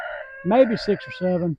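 Hens and a rooster in a farm coop cluck and crow in the background while a person speaks briefly over them.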